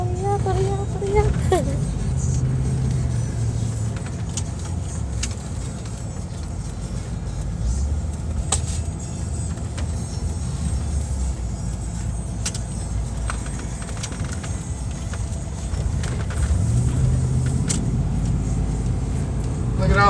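Busy town street traffic, a steady roar of passing cars and engines with horns and clatter throughout, close and continuous, with people talking over it.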